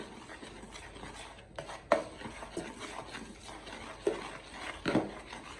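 A spoon scrapes and knocks in a bowl while salt is stirred into the dry ingredients for gyro pita dough, quiet rubbing strokes with a few sharper taps, close by and faint.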